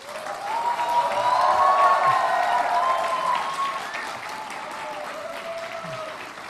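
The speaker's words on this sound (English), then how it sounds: "say thank you through giving all of your supporters a big round of applause" Audience applause at a hotel management school graduation ceremony, sustained clapping from a large crowd that swells, holds and gently eases off, with faint tonal sounds and murmuring mixed in.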